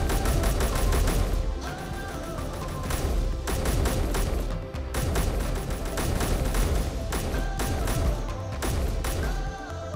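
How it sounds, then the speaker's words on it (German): Dense, continuous automatic gunfire from armed bots in the video game Space Engineers, with rapid overlapping shots and loud sustained bursts. "die bewaffneten Bots schießen auf unbewaffnete Bots."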